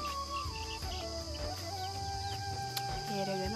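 A village hen with a dozen newly hatched chicks clucks repeatedly nearby, with chirping and insect sounds in the background over a steady outdoor hum.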